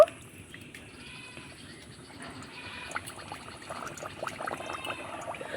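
Spinach-stuffed puri frying in medium-hot oil in a small pan, a soft continuous sizzle and bubbling that thickens after a brief splash, close and fairly quiet.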